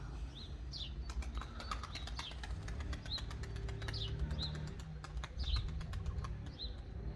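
Pigeon released into the air, with quick bursts of flapping wings recurring over steady outdoor background noise, joined by a few faint chirps.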